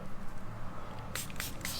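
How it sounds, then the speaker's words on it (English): A handheld spray bottle mists liquid onto paint protection film on the B-pillar of a 2021 Ford F-150, with several quick close hissing bursts in the second half over a low background hum. "You want to spray it while you're peeling it?"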